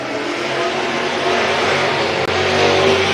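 Race cars at Hibbing Speedway weekly racing, a dense continuous engine roar with a steady buzzing drone, loud and close throughout.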